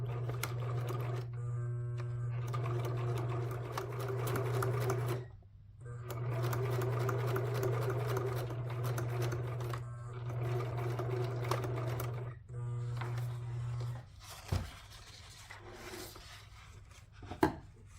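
Sewing machine stitching edge trims and binding onto a junk journal cover, a steady close motor hum running in long bursts with brief pauses between passes, then stopping near the end with a few light handling clicks.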